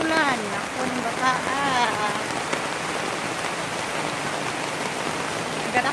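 Steady rain pours down outdoors in a rural yard, a dense continuous hiss throughout, with voices talking over the downpour during the first couple of seconds.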